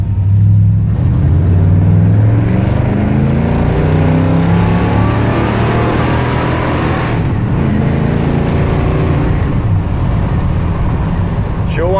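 A 1971 Ford F250 pickup with a peppy motor, hot cam and head work starts up and revs, its exhaust giving a loud, close, continuous low rumble that rises and falls with the throttle.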